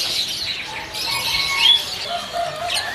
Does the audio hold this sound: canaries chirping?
yes